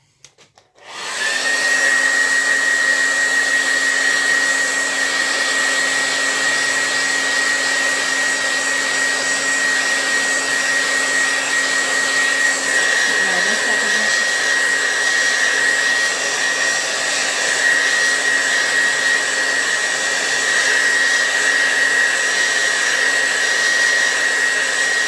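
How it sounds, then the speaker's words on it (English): A heat tool drying paint on a seahorse stencil blows loud and steady, with a constant whine and rushing air that start abruptly and hold unchanged for about twenty-four seconds. "We can add some heat to it to dry that up a bit."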